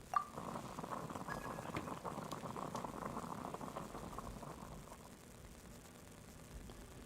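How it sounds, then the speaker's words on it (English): Water boils in the Genshin Impact video game, a continuous close bubbling roil that stays fairly loud, then eases slightly toward the end. "I'll boil some water."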